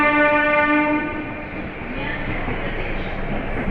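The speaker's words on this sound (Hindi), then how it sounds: "समय से निकलते हुए सिद्धवली जनशताब्दी एक्सप्रेस सुबह के 7 बजे" Siddhabali Jan Shatabdi Express pulling out of Delhi in the morning: a loud horn blast with steady harmonic tones opens, then gives way to a continuous rumble and rattle of the rolling train, heard close from on board.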